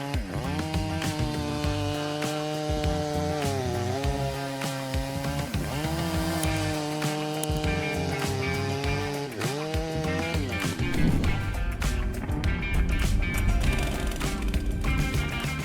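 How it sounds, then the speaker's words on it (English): A Stihl MS661 chainsaw cuts through wood close by, its engine droning steadily and dipping in pitch several times as the chain bites and loads up, then revving back. The engine runs loud and continuous with no talk over it. "the Stihl MS661 boasts a low power to weight ratio and is the lightest chainsaw in the large capacity segment."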